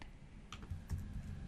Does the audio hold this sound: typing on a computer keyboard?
yes